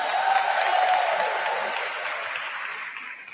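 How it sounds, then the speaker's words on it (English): Steady applause from an indoor audience at a Pratt Library event honoring library staff, a dense patter of clapping that starts full and gradually thins and fades over a few seconds. "Please give them a round of applause."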